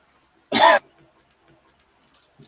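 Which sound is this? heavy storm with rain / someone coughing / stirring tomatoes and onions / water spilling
someone coughing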